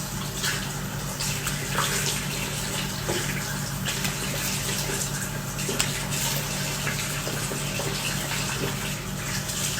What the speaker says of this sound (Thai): ล้างน้ำเปล่า